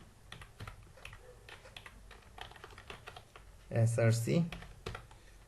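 Rapid clicks of someone typing HTML code on a computer keyboard, close and steady, while someone talks over the keystrokes.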